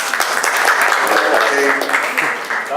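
Applause for a student in a Spanish-language church class: dense, steady clapping filling the whole moment at close range, with faint voices mixed in underneath.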